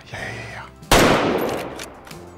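A single loud, sharp hunting rifle shot in the Way of the Hunter game cracks out suddenly after a quieter stretch and then echoes away over the next second or so.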